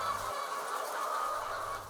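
Chickens on a poultry farm, a dense, continuous chorus of clucking and squawking hens, steady and moderately faint, with no talk.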